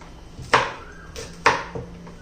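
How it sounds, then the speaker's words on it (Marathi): Green chillies are cut into pieces with a knife on a board: a few crisp chopping knocks in an uneven rhythm, close and clear against a quiet background. "सर्व मिरचीचे तुकडे करून घेते."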